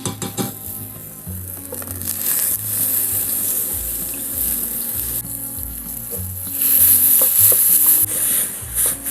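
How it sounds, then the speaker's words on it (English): Curry paste for a banana flower curry frying in coconut oil in a pan, a steady close sizzle with scraping stirring strokes and occasional louder hissing bursts, no talking. "The first thing we're going to do is cook the paste."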